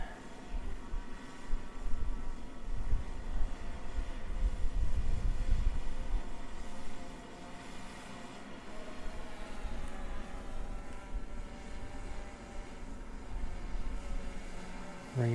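A drone hovers and descends to land, giving a steady, broad whirring drone that dips slightly in the middle before rising again, with no talking.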